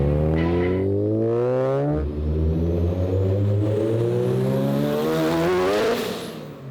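A restored Mazda FC RX-7 street car on narrow tires accelerates hard, its rotary engine climbing steadily in pitch through a long pull, a brief dip near two seconds as it shifts, then rising again loud and close before backing off.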